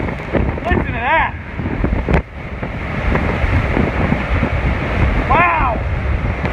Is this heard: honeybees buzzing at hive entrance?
no